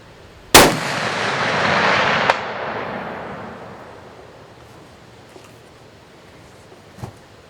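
A rifle fires at a steel target 444 yards away: one sharp, loud report followed by a long rolling echo that fades over several seconds, then a faint distant tap as the round strikes steel, and a few small clicks later.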